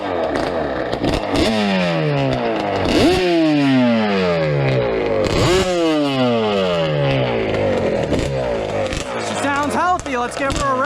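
A Yamaha Banshee ATV fitted with cheap Amazon carburetors revs hard in repeated two-stroke pulls, the pitch sweeping up and dropping again several times, loud and close throughout.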